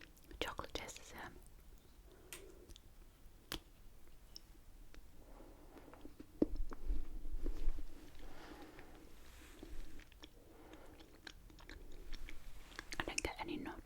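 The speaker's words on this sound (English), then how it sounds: "I'm gonna bite from the top this time. The chocolate tastes the same." Someone chews a chocolate biscuit close up, with soft crunches and wet mastication sounds alongside a whispering voice.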